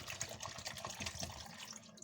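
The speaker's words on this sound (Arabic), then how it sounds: "طبعا هسقطها كده وهملاها بقى ميه" Water pours steadily from a tap into a bottle in a home kitchen while licorice drink is being prepared, a continuous close splashing rush with a gurgling fill and no talk.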